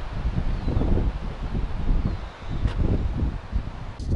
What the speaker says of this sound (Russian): А с этой стороны ветер шпарит, вообще будь здоров.